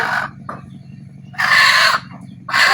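A domestic deshi hen squawks and clucks loudly up close while being caught indoors at home, two long panicked cries with shorter clucks between them.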